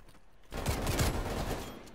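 EM2 rifle fire in the Black Ops Cold War game, a dense burst of rapid automatic shots starting abruptly and rattling on loud and steady for over a second with no talk.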